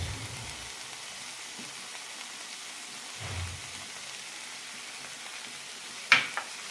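Grated coconut being heated in a pan for bottle gourd chutney, giving a faint, even sizzle throughout, with a soft low thump partway and a brief sharp clink of a utensil near the end.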